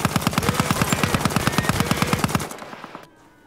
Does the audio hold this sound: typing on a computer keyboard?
no